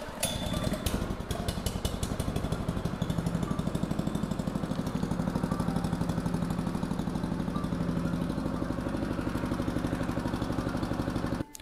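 Small engine driving a mini gold mining trommel runs steadily and loudly at close range, with an even, rapid chugging idle and a faint mechanical rattle throughout.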